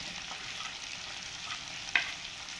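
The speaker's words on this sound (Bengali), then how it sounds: "এবার ওই তেলেতে আমি দিয়ে দেবো লঙ্কা গুঁড়ো" Chili, turmeric and other spice powders hit hot oil in a pan, giving a steady close sizzle with a soft stirring scrape and one sharp clink of the spoon near the end.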